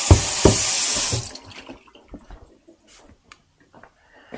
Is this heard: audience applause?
no